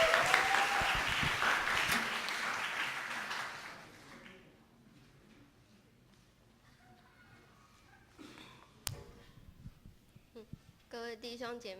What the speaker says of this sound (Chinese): 我们拍手来欢迎他